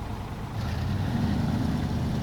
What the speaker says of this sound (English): I like the way this truck sounds.